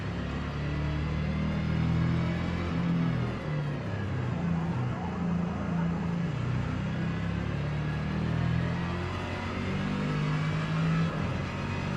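Car engine from Forza Motorsport played on a Clubsport DD+ wheel, a steady low droning hum that holds level through the whole stretch with slight rises and dips in pitch, no voices over it.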